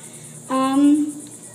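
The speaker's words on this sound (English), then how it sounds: "There's also lots of cicadas." Cicadas keep up a continuous high, shimmering drone in the background at Hilton Head, while a brief tonal sound rises over it partway through.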